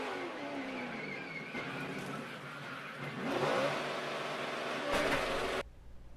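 NASCAR truck series race with a truck spinning out on track: engines roar and rev from a distance, rising in pitch as vehicles pass, with a brief skid-like surge before the sound cuts off abruptly.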